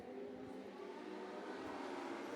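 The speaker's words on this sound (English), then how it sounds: "Cars lining up for a start for their heat number 2." Race cars idling and revving on the grid as they line up for the start of heat two at a motor race, a steady engine drone filling the whole stretch with no voices over it.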